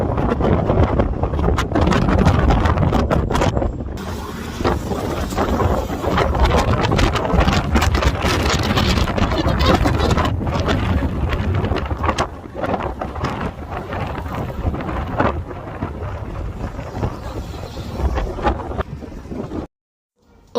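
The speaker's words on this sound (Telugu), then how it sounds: "ఒరిజినల్‌గా చూసేయండి అసలు గాలి సౌండ్ ఎలా వస్తుందో" Strong gusting wind from a sandstorm in Dubai buffets the microphone with loud, rough roaring bursts. It eases slightly midway and then stops abruptly near the end.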